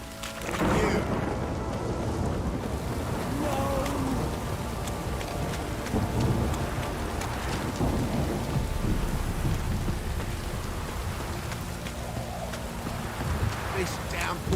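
Steady rain pours throughout a thunderstorm in Witcher 3: Wild Hunt, with low thunder rumbling beneath a dense, continuous hiss while someone talks over it.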